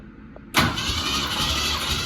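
A car engine cranks during a compression test, starting abruptly after a brief quiet moment and then holding a loud, steady, fast-rhythmed churn of the starter turning the engine over, close by.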